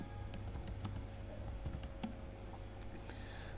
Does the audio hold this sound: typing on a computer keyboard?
yes